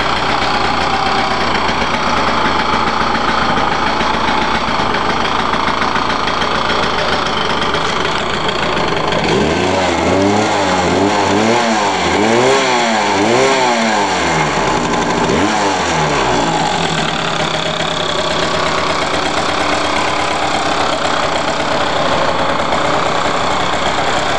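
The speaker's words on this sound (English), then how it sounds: "Nice old Yamaha two-stroke." A cold 1996 Yamaha DT200R two-stroke motorcycle idles with the choke on, then revs in a series of rising and falling crackling blips before settling back to a steady buzzing idle, loud and close.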